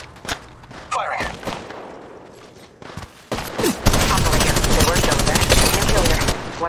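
Rapid automatic gunfire from Apex Legends Mobile ranked gameplay, with dense sustained bursts that grow louder and more continuous in the second half, mixed with game sound effects and in-game voice callouts.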